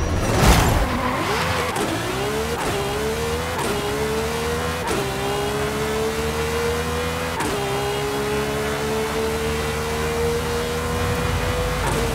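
A 1989 Ferrari F40 Competizione in Forza Horizon 5 accelerating hard, its engine note climbing repeatedly through upshifts, each gear change breaking the rising drone before it settles into a long sustained high-revving howl.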